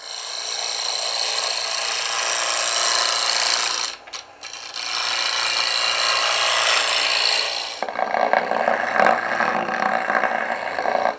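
Wood box stock spins on a lathe as a cutting tool rounds it, producing a loud, continuous scraping rasp. There is a brief pause near the middle, and then the cut resumes with a brighter, rougher tone.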